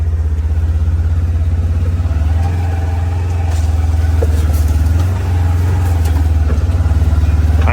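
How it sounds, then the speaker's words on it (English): Side-by-side utility vehicle engine idling and backing up from a spot, a loud, close, steady low drone with slight clattering that dips briefly as it shifts. "So I'm going to go ahead and just back up from this spot over here."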